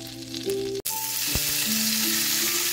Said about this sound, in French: de la viande tranchée mince comme ça, on veut la faire cuire vraiment pas longtemps